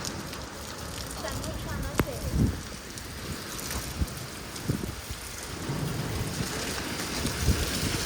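Heavy monsoon rain falls in Rajkot as a steady, fairly quiet hiss with a few louder drips and knocks scattered through it, and faint voices in the background.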